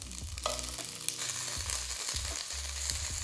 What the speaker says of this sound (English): I'm just kind of like browning it a little bit in the pan